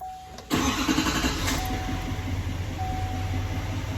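A 2020 Chevy Duramax diesel truck engine cranks and fires up right after a fuel filter replacement, catching with a sudden loud burst and then settling into a steady, close rumbling idle.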